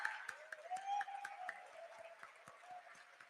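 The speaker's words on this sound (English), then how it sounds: "I think the applause can be a little more louder." Thin, scattered clapping from the audience at the Swiggy NSE listing ceremony, a dozen or so spaced claps over a soft tonal hum, fairly quiet and distant, with no talking.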